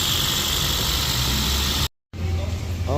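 A Toyota Vios engine idles steadily after its throttle body and intake manifold have been cleaned, a continuous low hum that cuts out briefly partway through and then resumes, with no speech.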